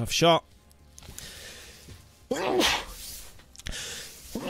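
A sharp sneeze bursts out at a snooker match, a single loud close sneeze at the start, followed by quieter talk and room noise.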